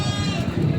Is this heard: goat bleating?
yes